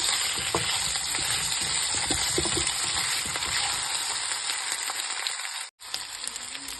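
Potatoes sizzle in hot oil in a pan, a constant close frying hiss with occasional stirring scrapes and one brief dropout near the end.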